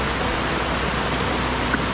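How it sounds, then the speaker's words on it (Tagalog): Heavy rain pours down steadily outdoors near a house kitchen, a dense, loud, unbroken hiss with no other sounds standing out. "Grabe, lakas ng ulan"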